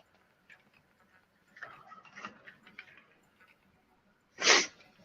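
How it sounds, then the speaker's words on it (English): A single human sneeze near the end, a loud close burst after some faint rustling and a quiet intake of breath. "But I got to sneeze."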